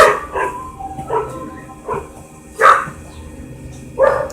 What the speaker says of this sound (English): My dog, she's barking, so I have to wait.